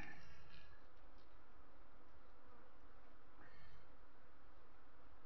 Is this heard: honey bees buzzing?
yes